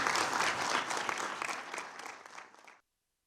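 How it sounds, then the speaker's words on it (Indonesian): Applause fills the UN Security Council chamber after a resolution is adopted, a dense sustained clapping from many delegates that holds steady for nearly three seconds and then stops abruptly. "Tepuk tangan memenuhi ruang sidang Dewan Keamanan Perserikatan Bangsa-Bangsa atau PBB"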